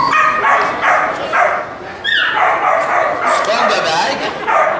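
Dogs bark and yip at a dog training show in Victoriaville, short sharp calls scattered through the scene, close and loud, mixed in under a person talking.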